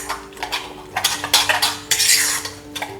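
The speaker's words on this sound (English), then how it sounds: "Give it a good stir." A spoon stirring cashew mayo into a salad dressing in a bowl, quick clinking and scraping strokes of cutlery against the dish, close and uneven in rhythm.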